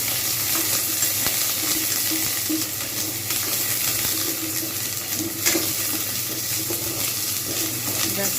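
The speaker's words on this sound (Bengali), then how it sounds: "এবারে আমি এর মধ্যে জলপাইগুলো দিয়ে দেবো জলপাইগুলো জাস্ট আমি একটু এপিট করে নাড়িয়ে নেবো" Olives stirred in a hot pan of oil tempered with five-spice, a steady close sizzle and frying hiss with soft scraping of the spoon running throughout.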